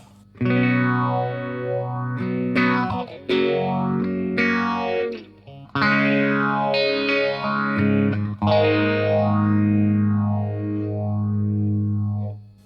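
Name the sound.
guitar through Strymon Mobius modulation pedal, two amps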